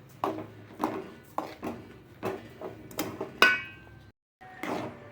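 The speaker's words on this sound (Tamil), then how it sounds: "இதை நல்லா கரையிற வரைக்கும் நல்லா கிண்டி விடுவோம்." A spoon scraping around a pan as sugar is stirred into rava kesari, a series of about nine soft, rhythmic scrapes and taps, close and fairly quiet, with a brief pause near the end.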